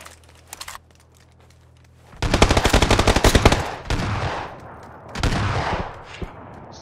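Automatic gunfire in the video game PUBG, a loud rapid burst of shots followed by further sustained volleys, close and dominant with no talk over it.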